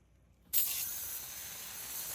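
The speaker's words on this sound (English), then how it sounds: "So I'm just going to go ahead and spray this down." After a brief quiet moment, a sudden steady hiss of a spray bottle misting water onto air conditioner coils starts and continues evenly, close and fairly loud.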